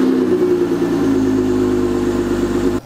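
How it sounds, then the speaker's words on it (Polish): A Chrysler Voyager minivan's 3.6 V6 engine idles steadily up close, a smooth low hum with a constant tonal drone, cut off by a brief clunk at the end. "jak go odpalimy, pipczenie ustaje, a spod maski dobywa się wspaniały dźwięk V6"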